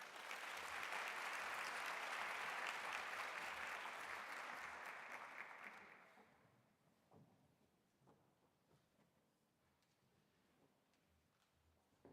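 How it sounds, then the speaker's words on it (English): Audience applause for a professor at an honor society new member recognition ceremony, loud and dense for about six seconds, then fading out to a quiet room with a few scattered claps. "Let's clap hands for Prof once more."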